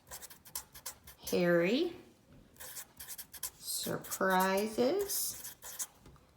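A pen scratches and taps on a paper graphic organizer in short bursts, nearly constant beneath a person's clear, close speech.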